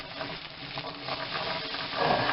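Onions sizzling in a pan as they soften and begin to brown, a soft steady crackle with gentle stirring that swells slightly toward the end, heard alone without talk.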